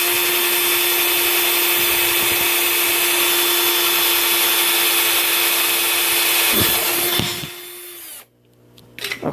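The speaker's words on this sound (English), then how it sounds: "just drill a hole straight through" A power drill whines steadily at high speed while boring a hole straight through a light hood for a zip tie, the motor holding one loud pitch for several seconds before cutting off, followed by brief handling clatter.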